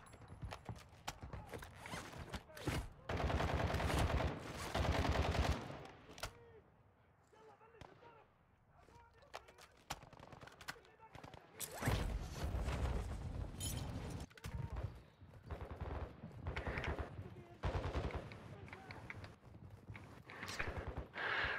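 Gunfire in the video game DMZ, with dense bursts of shots and impacts coming in loud waves, dropping to a quieter stretch in the middle, while people talk over it.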